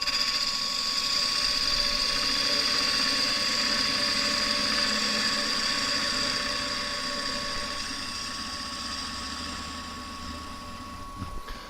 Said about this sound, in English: I'm just going to clean up this end a little bit, nice and carefully, with a few light cuts with the spindle gouge